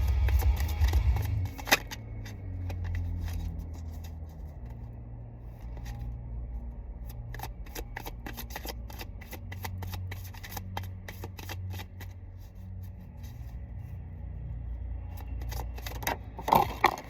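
Tarot cards are shuffled continuously at close range, a steady papery riffling and flicking with scattered sharper snaps, quiet and sustained with no talk over it.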